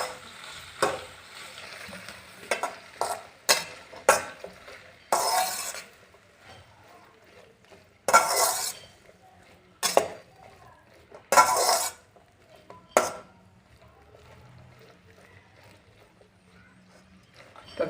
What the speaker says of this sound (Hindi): घी के बाद अभी इसमें फ्राई करेंगे भिंडी को।